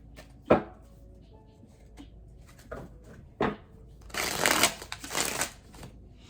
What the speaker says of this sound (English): I'm gonna go ahead and pull tarot for these.